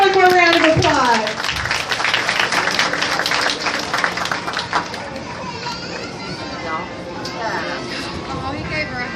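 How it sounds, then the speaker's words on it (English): An audience at a dolphin show breaks into applause and cheering, loud bright clapping mixed with children's shouts and crowd chatter that trails off into murmuring. "Let's give him one more round of applause."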